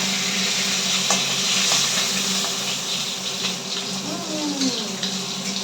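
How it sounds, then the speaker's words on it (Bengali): Fish fries in hot oil in a home kitchen, giving a loud, unbroken hiss and sizzle close by with a few faint clicks on top. "মাছ ভাজা হয়ে গেছে, আমি তুলে নেবো মাছটা"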